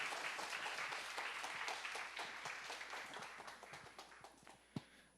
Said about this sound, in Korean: 우리 큰 박수로 다시 한번 환영하겠습니다.